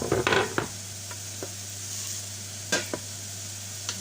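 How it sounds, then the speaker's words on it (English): Okra hits a hot pan and sizzles faintly under a low steady hum, with a few sharp stirring clatters near the start and scattered utensil taps later. "we're going to add the okra now to the pan"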